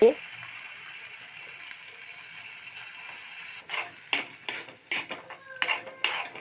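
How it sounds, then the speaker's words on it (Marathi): Ground spice paste for matar paneer fries in hot ghee with a steady, close sizzling hiss, joined in the second half by a run of sharp stirring and scraping strokes in the pan. "तूप थोडे गरम झाल्यानंतर मी हे वाटून घेतलेले मिश्रण टाकते."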